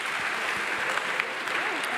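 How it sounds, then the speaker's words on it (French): An audience at a geography lecture applauds steadily, a dense close patter of many hands clapping that keeps going without a break, with a voice faintly audible underneath. "on perd du temps avec les applaudissements"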